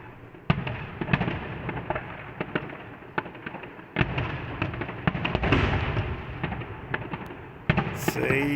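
Festival fireworks burst over Logroño in 2025, a rapid, irregular barrage of sharp cracks and booms that rises to a dense, loud crackle midway, with a few heavier thumps near the end.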